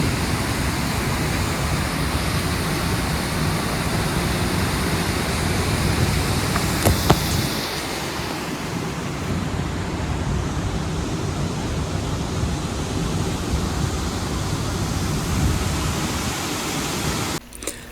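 Water rushing over a dam at a canal lock, a loud steady roar of broadband noise that drops off sharply partway through as it recedes, then continues more quietly.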